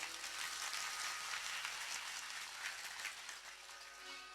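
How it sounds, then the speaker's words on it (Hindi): Audience applause welcoming a speaker at a Hindu religious discourse in Janaki Mahal, Janakpur, Nepal: dense, steady clapping from a large crowd, fairly faint and distant, with no talking. "और हम सब एकदम एक बेर और जोरदार ताली से इनका स्वागत करी"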